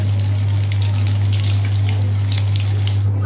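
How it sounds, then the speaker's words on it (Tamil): Shark fish kola balls fry in hot oil with a dense, steady crackling sizzle, close and fairly loud over a constant low hum, with no talking. "இந்த மாதிரி பொன்னிறமாக நம்ம எல்லாத்தையும் ஃப்ரை பண்ணி எடுத்துக்கலாம்"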